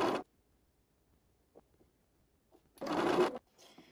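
A sewing machine stitching quilt fabric squares for a whale quilt runs in two short bursts, a brief one at the start and a longer one near the end, with near-silence and faint handling between them.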